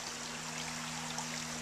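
San Pablo Creek, running high after recent rains, flows with a steady, even rush of water under a faint low hum, heard alone at moderate distance.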